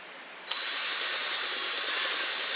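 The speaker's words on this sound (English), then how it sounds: "And then you're going to drill." Power drill boring into a plastic bottle, starting abruptly after a short quiet moment and then running steadily and close up without any voices.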